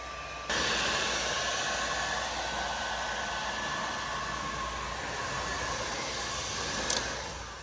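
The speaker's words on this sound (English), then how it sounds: "I'm just putting gentle heat on the bead that I laid down on the mounting surface" A heat gun blows a steady, loud airflow roar, warming a glue bead on a subwoofer mount in a Ford S550 Mustang; it starts abruptly and runs continuously with no talk.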